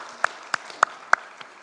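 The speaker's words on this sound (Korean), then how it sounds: "우리 박수로 축하하고 감사하겠습니다" A church congregation claps in unison at a Korean all-generations worship service, four sharp, evenly spaced claps followed by a faint fifth, close and clear with no speech.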